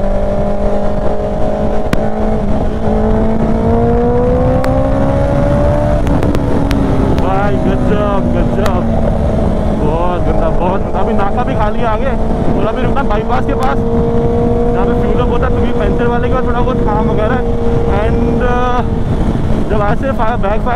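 A Ducati V4S and a Triumph Street Triple RRR rev loudly up close, their engine notes rising and falling in drawn-out sweeps, with sharp crackling exhaust pops layered over a constant roar.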